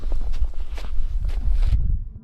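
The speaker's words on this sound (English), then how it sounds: "Soft footsteps start to sound" Soft footsteps crunch through a forest, a steady sequence of muffled steps on the ground with light rustling, close and moderately loud, cutting off abruptly near the end.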